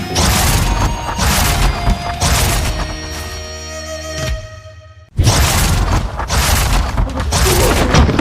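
Heavy booming cannon blasts and crashing impacts on a ship at sea roll in loud succession, with a tonal drone fading into a brief lull before the barrage resumes.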